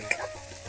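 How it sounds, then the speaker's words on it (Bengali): Onions and chillies fry in a pan in a village kitchen, a soft steady sizzle with a light stirring scrape, close and fairly quiet, no voices. "প্রথমে পেঁয়াজ মরিচ ভেজে নিচ্ছেন কাকা"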